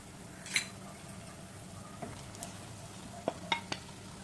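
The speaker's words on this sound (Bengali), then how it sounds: "এখন আমি কলিজা সেদ্ধ করে রাখা কলিজাগুলো দিয়ে নিচ্ছি" Boiled liver being cooked in a pan with spices already fried down: quiet, steady sizzling with a few sharp metallic clinks and ticks from a spoon against the pan, no voices.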